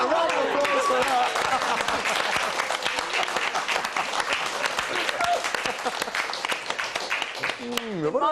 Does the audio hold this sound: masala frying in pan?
no